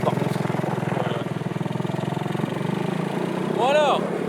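A cheap 100-euro quad bike engine runs steadily at a close, loud idle with a rapid even pulse, revving slightly higher near the end as a brief whistling tone rises over it.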